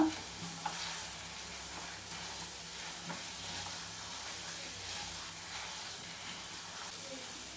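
A mango burfi or halwa mixture is stirred steadily in a pan on the stove, giving a continuous soft sizzle and scraping with faint low clatter throughout, and no voices.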